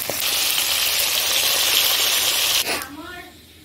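Cumin seeds sizzle loudly in hot oil for a Bengali fish curry, a steady close hiss that stops abruptly, after which a voice speaks briefly.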